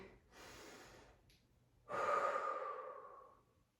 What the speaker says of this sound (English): Taking a deep breath in.